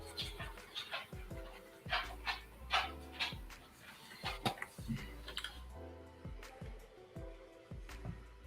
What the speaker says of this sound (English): Is that the sound of your dog